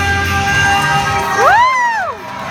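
A crowd at the Sea World Hydro Power show cheers and whoops together, a loud burst of mixed voices with one rising and falling shout near the middle.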